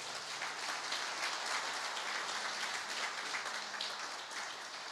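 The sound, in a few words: church congregation applauding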